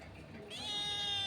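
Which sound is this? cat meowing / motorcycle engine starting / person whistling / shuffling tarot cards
cat meowing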